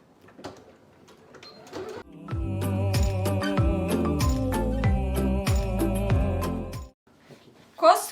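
A domestic sewing machine runs steadily for several seconds, stitching fabric to finish a seam with a rapid mechanical rhythm, framed by quieter handling noises before and after.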